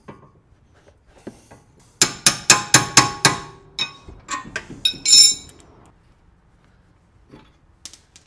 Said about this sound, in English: I'm gonna use my half inch impact gun to run it down tight.